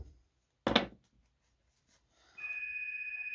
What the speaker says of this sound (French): vous entendez le téléphone sonner